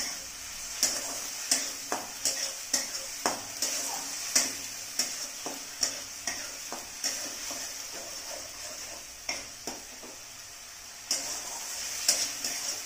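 Onions stirred and frying in a pan over high flame for a mushroom curry, a steady soft sizzle broken by repeated light scraping clicks of a spoon against the pan at an uneven rhythm, close and fairly quiet.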